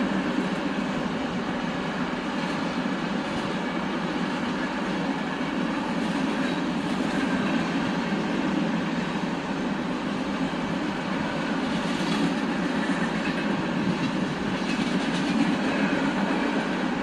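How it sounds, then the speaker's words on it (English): A CSX freight train led by an SD70ACE locomotive rolls steadily past, boxcars rumbling and clattering on the rails in a continuous loud roar, with faint wheel squeal. "Boxcars on this train."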